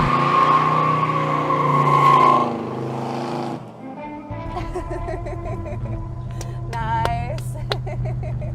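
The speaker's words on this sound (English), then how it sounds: "somebody was doing burnouts outside your house" A car does burnouts outside a house, its engine roaring loudly for several seconds before dropping to a rough rumble, with tire squeals and whining rev bursts layered over the continuing motor.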